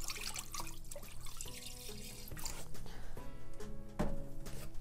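Distilled water runs into a pot holding leftover coffee grounds, a continuous soft splashing pour, fairly faint, with no voices.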